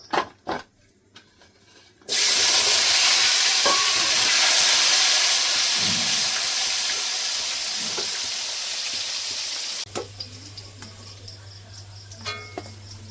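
Drumstick stems and other vegetables for Bengali shukto frying in a pan, a loud steady hiss and sizzle bursting in suddenly after a few quiet clicks, holding for several seconds, then cutting off to low background noise.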